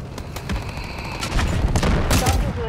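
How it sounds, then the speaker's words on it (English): An artillery barrage in the video game Delta Force pounds in a dense run of booming impacts and cracking shots, loud and close, layered over a rumbling battlefield. "Artillery ready for barrage."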